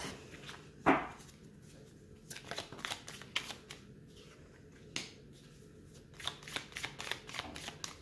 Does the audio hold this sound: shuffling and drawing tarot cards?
yes